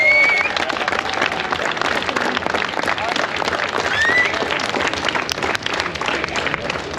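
A crowd at a drift competition applauds a third-place podium finisher, with sustained clapping and cheering mixed with an announcer's voice over a loudspeaker.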